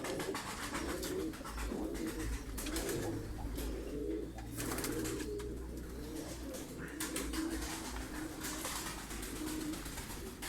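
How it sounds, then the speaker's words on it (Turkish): Hungarian bango pigeons coo in a breeding loft, a steady overlapping chorus of low, throaty coos with soft wing and shuffling noises, continuous and fairly close, with no talking. "Burada Macar bangosu var. Tam karşımıza Macar bangosu çıktı."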